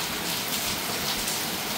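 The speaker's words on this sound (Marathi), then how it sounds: "पाऊस." Heavy monsoon rain during a hailstorm, a dense steady hiss of downpour close by with no voices.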